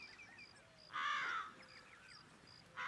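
Several loud, harsh crow caws sound in separate bursts over a quiet background, with fainter bird calls in between.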